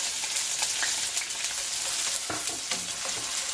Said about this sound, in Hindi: ये कढ़ाई में हमने 4 टेबल स्पून ऑयल डाला है और इसमें हम ये जो हमारी 1 मीडियम क्रश्ड अनियन थी वो इसमें डाल देंगे।